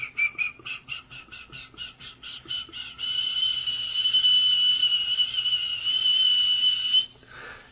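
A shrill whistled call imitating a pig monkey, first as a string of quick rhythmic chirps, then a long sustained squealing tone that cuts off near the end.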